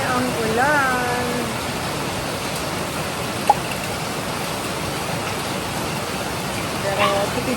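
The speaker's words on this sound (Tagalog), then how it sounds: "Grabe ang ulan." Heavy rain pours steadily during an approaching typhoon, a dense constant wash of noise throughout, with a voice speaking briefly over it near the start and end.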